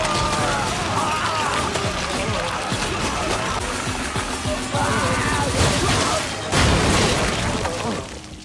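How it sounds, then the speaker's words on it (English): Crowds of multiplied bodies burst through a concrete wall in the animated series Invincible, giving a dense, continuous roar of crashing and shattering debris with heavier smashing bursts near the end. "Never in my life did I think of multiplying yourself to the point where your bodies literally bust through concrete wall as a viable escape plan."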